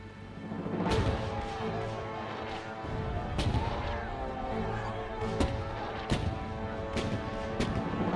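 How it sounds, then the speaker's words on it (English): Cannon fire of an artillery bombardment on Fort Sumter, a series of booming shots with rumbling echoes, spaced a second or so apart over a continuous low roar of distant guns. "Confederate forces began the bombardment of the federal garrison at Fort Sumter, and the first shots of the American Civil War were fired"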